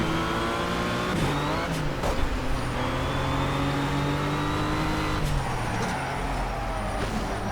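A RUF race car in the Project Cars racing game holds a loud, steady engine roar throughout, with pitch shifts at gear changes and brief tyre or contact noises. No one speaks.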